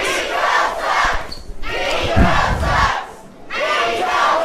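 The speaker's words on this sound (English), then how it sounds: "Oh, the King Baldwin has got the crowd to chant, Ego sucks." A wrestling crowd chants in unison at a live show, a rhythmic two-beat call repeated three times in loud swelling waves with brief pauses between, echoing through the arena.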